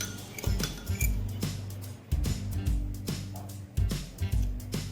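A spoon clinks repeatedly against a bowl while custard is mixed with vanilla essence, producing irregular bright taps and scrapes close up with no talking.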